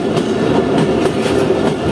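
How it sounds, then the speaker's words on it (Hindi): A Chaman Passenger train on the Chaman line toward Kuchlak takes long curves while climbing to height, heard from the last coach as a loud, steady rumble with rhythmic wheel clacks, and no voices. "लेकिन यहाँ तक पहुँचने के लिए ट्रेन अभी बहुत सारे लंबे लंबे कर्व लेगी"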